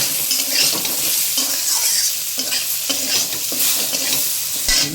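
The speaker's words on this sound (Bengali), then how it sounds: "এবারে এগুলো সব এবারে একটু কষে নেব, ভালো করে কষে নেব" Spices with turmeric and chili powder stir-fried in a pan for Kolkata-style ghugni, a loud continuous sizzle with repeated scraping of a spoon against the pan, close and without talk.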